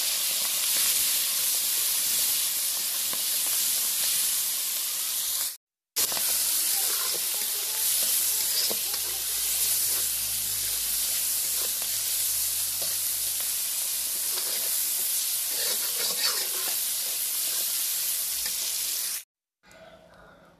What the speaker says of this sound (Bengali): আর আমি এখন ঝিনুকটা ভেজে নেব। লবণ হলুদ দিয়ে দিয়েছি।